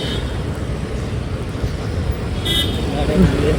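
Road traffic near Calangute Beach in Goa, with car engines and a brief horn toot under loud nearby talking.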